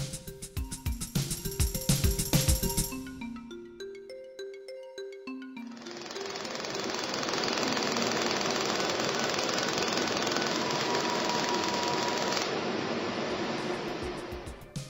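A stationary SIGMA Laser welding machine welds a profile: a run of short electronic tones and clicks gives way to a steady, loud hiss and hum that holds for several seconds before cutting off.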